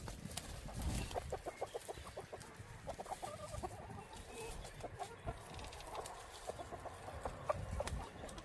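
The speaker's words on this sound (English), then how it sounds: "chickens are over here in the chicken tunnel doing what chickens do." Backyard chickens in a chicken tunnel near a compost area, clucking and murmuring softly in a loose, irregular chatter, several birds at moderate distance with faint outdoor background.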